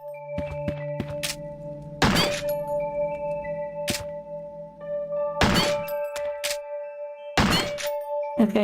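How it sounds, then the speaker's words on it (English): Gunshots firing at objects in the retro horror video game Crow Country, four sharp loud bangs spaced a couple of seconds apart, each leaving ringing metallic tones and a soft musical drone between them. "I guess I could try shooting these."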